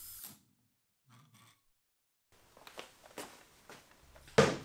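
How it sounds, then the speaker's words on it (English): A drill cutting a square hole in a wooden tabletop through a Rockler drill guide, heard as a few bursts of close, buzzing, grinding machining that build to a loud final whine after a brief quiet gap. "it drills a nice clean square hole in the middle of this tabletop"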